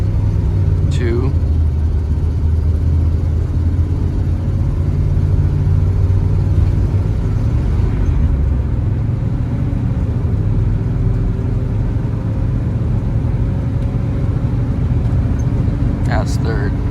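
Inside a car fitted with a GM 4L60E automatic transmission, a loud, steady engine drone and road rumble continue as it accelerates and shifts gears, while voices talk over it throughout.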